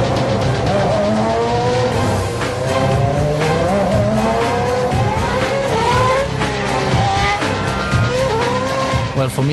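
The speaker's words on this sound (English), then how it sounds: "Stepping into the car for the very first time, starting the engine for the very first lap." A Red Bull Formula 1 car on its first lap roars loudly and close, its engine pitch climbing and dropping through the gears, with tire squeal mixed into the continuous high-revving drone.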